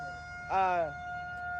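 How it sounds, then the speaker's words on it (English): A storm warning siren wails near Memphis, Tennessee during severe weather, rising in a brief loud swell over a steady droning tone, heard from outdoors. "Sirens going off, blaring"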